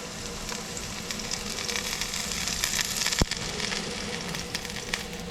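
Beef sears in a hot pan in batches for Mongolian beef, a steady close sizzle and crackle with one sharp click partway through, no talking over it.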